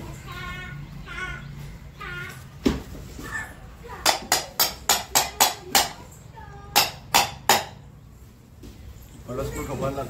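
Sharp metallic hammer taps drive a screw into the wheel of a kids' tricycle with a parental push handle, about a dozen quick blows in two bursts, close and loud, with a voice and chatter before and after.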